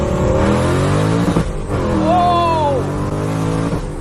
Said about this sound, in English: I have a 700 horsepower supercharged Mustang GT